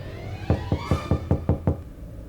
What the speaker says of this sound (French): Pourquoi tu frappes toujours à la porte, Pragya?